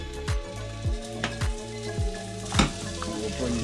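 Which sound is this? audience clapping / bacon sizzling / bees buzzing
bacon sizzling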